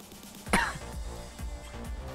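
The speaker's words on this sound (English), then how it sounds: "That was like a single cough." A single sharp cough, close and abrupt, cuts through an otherwise quiet background, followed by a few faint low thumps.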